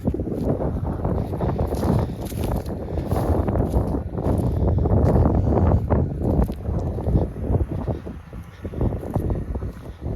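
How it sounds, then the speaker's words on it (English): Strong wind buffets the microphone in a continuous low roar inside a tractor cab at night, rising and easing in gusts, with no voices. "Still is pretty windy out here"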